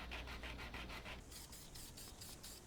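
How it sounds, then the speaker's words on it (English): Steady rhythmic rubbing of sandpaper on 3D printed plastic prop connectors for a Mad Max arm replica, close and quiet, in two short back-and-forth passes. "Some sanding and painting and they were good to go."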